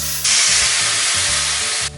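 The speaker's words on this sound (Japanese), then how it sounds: "豆板醤は油で炒めることによって香りと辛みが立ってきます。" Doubanjiang chili bean paste hits hot oil for twice-cooked pork, erupting into a loud, dense sizzle that holds steady for about a second and a half before cutting off, with no voices.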